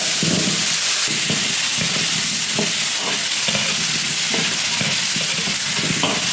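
Small potatoes stir-fry in a wok with red doubanjiang chili oil, scallion, ginger and garlic: a loud, constant sizzle with a spatula scraping and tossing in a steady rhythm close by.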